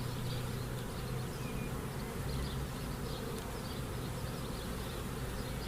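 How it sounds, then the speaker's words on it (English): Honey bees from an open hive colony hum in a dense, steady buzz as a mated caged queen is introduced, with no speech and occasional nearer wingbeats rising briefly above the swarm. "And just brush a few bees away"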